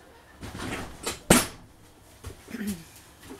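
A door pushed shut indoors gives one sharp, close knock, with quieter handling noises and soft rustles before and after, in an otherwise quiet room.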